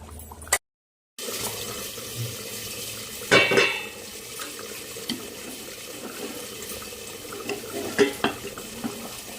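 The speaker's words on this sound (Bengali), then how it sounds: "এটা এখন একটু নাড়াচাড়া করে ঢেকে দেবো।" Meat is stirred in a cooking pot over a low, steady sizzle, with a couple of louder scraping stirs standing out.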